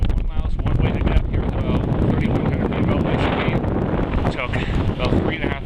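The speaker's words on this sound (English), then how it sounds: "The wind's pretty moderate, but basically full-on winter conditions up here." Steady wind buffets the microphone on the summit of Mount Moosilauke in full winter conditions, a constant, moderately strong roar with gusty fluctuations and no clear speech.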